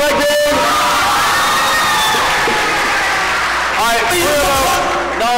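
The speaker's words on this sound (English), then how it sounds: "Give a round of applause for Carter Wegman." A crowd at the 2024 Sammy's Awards show cheers and whoops loudly and steadily, with shouts and some clapping mixed in. A burst of excited voices rises near the end.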